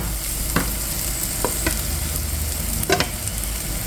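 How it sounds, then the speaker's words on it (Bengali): Chopped onion with a little salt frying and browning in a pan, a continuous loud sizzle with a few short scraping stirs, no talking. "এটা ভাজা হয়ে আসছে পেঁয়াজটা"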